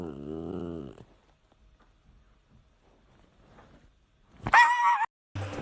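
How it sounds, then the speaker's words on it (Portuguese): A dog barks and whimpers in Super Mario 64, one drawn-out whining bark at the start and a louder, sharp bark near the end, separated by near silence. "Esse cachorro, velho."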